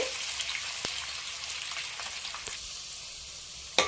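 Two large, thinly sliced onions frying until browned in a pan for mutton biryani, a steady quiet sizzle with soft crackles and an occasional sharp pop.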